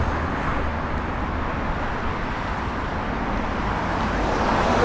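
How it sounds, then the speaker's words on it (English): Dense, continuous car traffic rolls along a busy Sydney street carrying vehicles between the city and the eastern suburbs, a steady close roar of engines and tyres with no voices. "Pretty busy street, taking cars in between the city and the eastern suburbs, so it is going to be quite noisy"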